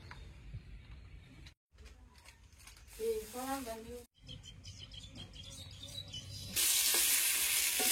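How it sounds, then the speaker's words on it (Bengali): Potatoes frying in a pan for a chicken curry, with a soft sizzle that swells into a loud, steady hiss near the end, while voices talk and bird-like chirps sound over it. "এগুলো মাংসের আলু ভাজি হইতেছে, প্রথম ভাজা রাখতেছে"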